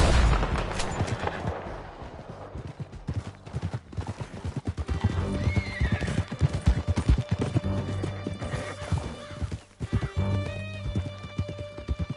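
Horses gallop in Red Dead Redemption II through a canyon, a loud rapid clatter of hooves with occasional gunshots and a whinny mixed in, sustained throughout with no talk.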